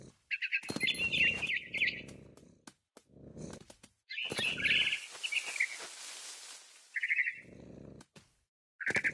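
A frightened bird chirps in the video game What Remains of Edith Finch, bursts of high, rapid tweets and calls repeating in short clusters against a quiet background.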